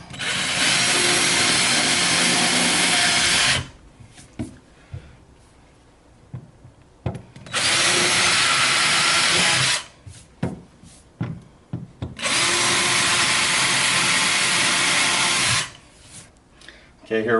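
Power drill with a 1/8 inch bit boring pilot holes about an inch deep into furniture, three loud sustained whirring bursts of roughly four seconds each, separated by quieter handling noises.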